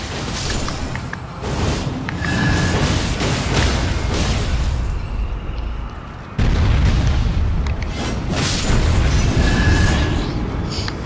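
Weapon art attack in the video game Elden Ring, a sustained loud barrage of booming, explosive bursts running continuously, with a sharp surge in intensity midway, and no talk over it.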